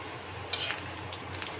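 Eggplant slices fry in a pan on a gas stove, giving a steady, close sizzle with a few faint clinks of stirring; no one speaks.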